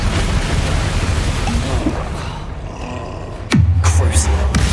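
A spell burst from Hogwarts Legacy combat, a sudden loud whoosh and impact around the midpoint that drops into a low rumbling tail, following a stretch of dense noisy battle ambience.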